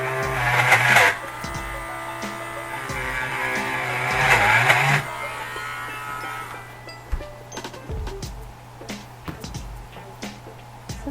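A Dremel rotary tool carves the nose of a Blythe doll, a high whining buzz that surges in two loud bursts over a steady motor hum, then eases off into lighter scraping and clicking.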